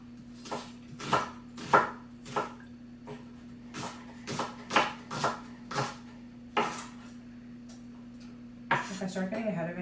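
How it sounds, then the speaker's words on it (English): A knife slices local farm onions on a cutting board in about a dozen crisp, evenly spaced chops, close up over a low steady hum, with a brief clatter at the end. "So slice, and again, these onions here are from Hillside Gardens"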